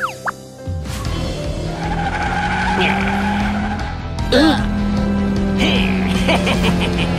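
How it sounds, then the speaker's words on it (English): A car engine runs with a steady low drone, joined by tire squeals and skidding sounds that rise and fall, loud and close, with brief whistling tones overhead. "Listen to the echoes and the sound of the engine."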